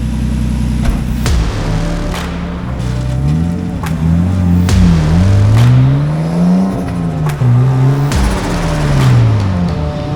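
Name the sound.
Nissan S13 car driving at a drift event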